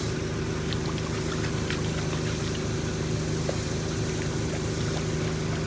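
Gravel and black sand are washed by hand in a gold pan during prospecting in Indiana, giving a steady, close swishing and trickling of water with faint gritty rattles throughout.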